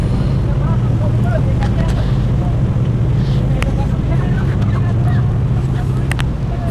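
A Superjet fast passenger boat cruising at speed on the way to Wakatobi, with a loud, steady engine drone and water rushing past the hull, plus faint scattered sounds from on board.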